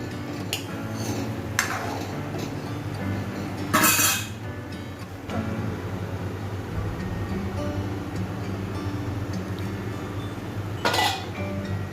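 Metal cookware clinks and clatters as a pot lid is lifted while chital fish muitha cooks, with a few sharp clanks over a steady low kitchen hum.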